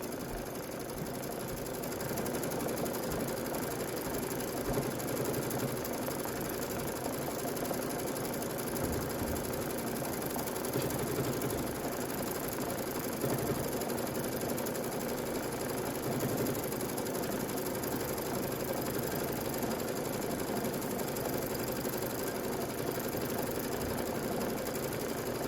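A sewing machine quilts a Kimberbell bench pillow top, running in a steady, unbroken mechanical whir with a fast stitching rhythm that holds at an even level from start to finish.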